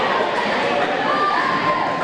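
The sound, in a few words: crowd cheering at a girls' volleyball game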